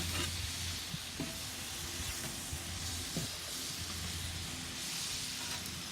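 Shrimp sizzle steadily on a Santa Maria grill, cooked hibachi style, giving a continuous broad hiss with a few faint clinks and knocks beneath it and no talk.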